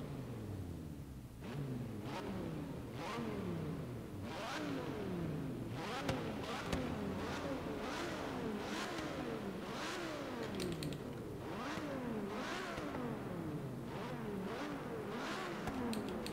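A car engine in Forza Horizon 3 revs repeatedly inside a tunnel, rising and falling in loud, echoing sweeps with sharp gear changes, punctuated by snappy bursts and crackles.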